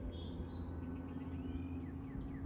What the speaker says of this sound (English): Very loud birds.